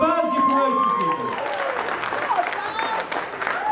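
Crowd applause and cheering at an evening talk event with boxer Kell Brook in Coventry, clapping mixed with voices and shouts throughout the short burst.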